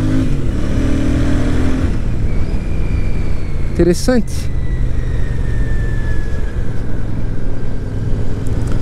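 A Royal Enfield Super Meteor 650 twin-cylinder motorcycle engine runs steadily and loud, with one brief rev pulling up the pitch midway and a short spoken word over it.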